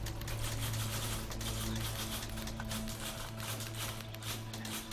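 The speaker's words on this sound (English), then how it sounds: "The chatter of typewriters." Several typewriters in The Beginner's Guide clatter in quick irregular keystrokes over a steady low hum, a faint, busy office chatter with no voices.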